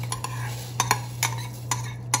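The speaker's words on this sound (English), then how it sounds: "And we want to make sure we stir it." Rice being stirred in a pot for arroz con leche: quick clinking, scraping spoon strokes against the pot come in uneven bursts over a low steady hum, close by, with no speech.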